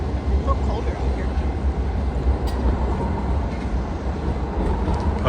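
An articulated Swedish public-transport train that bends in the middle rolls past outdoors, giving a steady, loud, broadband rumble that holds for the whole stretch without pause.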